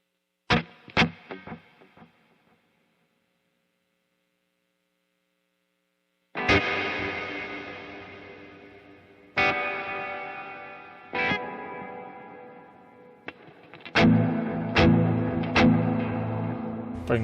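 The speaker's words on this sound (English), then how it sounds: "Bring the reverb time back because it's a little too big." An electric guitar through a BOSS crunch tone with hall reverb: a few short plucks first, then a silence, then ringing strummed chords that decay into a long reverb tail, each new strum cutting in loudly.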